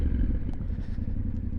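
A Yamaha Tenere 700 adventure motorcycle being ridden, its engine a steady low rumble close by with a few light clattering ticks on top, no talk.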